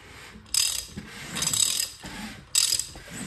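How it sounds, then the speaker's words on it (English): A two-foot half-inch drive ratchet turning over an engine with one valve spring installed during Cleveland valvetrain geometry setup, giving bursts of clicking pawl ratcheting separated by short pauses, close and fairly loud. "I've got a 2 foot half inch drive ratchet on here so I can have some more leverage"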